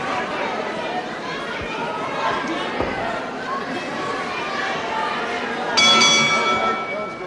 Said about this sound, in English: So there it is, the bell to end round 1